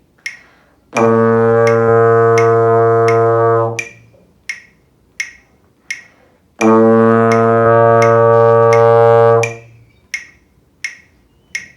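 A trombone sounds two long, steady whole notes, each held about three seconds, with a sharp metronome tick clicking evenly between and beneath them.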